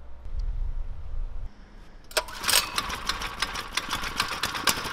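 A 6.5HP petrol motor mounted on a tandem bicycle starts up partway through, running as a loud, steady buzzing drone with rapid ticking pulses after a quieter opening stretch.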